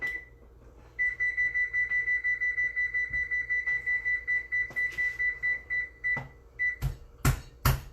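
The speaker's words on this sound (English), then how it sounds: "And I'm going to put the timer on here." A kitchen timer being set while lemon parmesan chicken is cooked: a long series of rapid, evenly spaced electronic beeps, fairly quiet and close, then a few dull knocks and clatters at the end.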